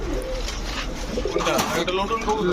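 Several pigeons cooing in a pigeon shop, soft repeated coos mixed with a busy room background and a person talking over them.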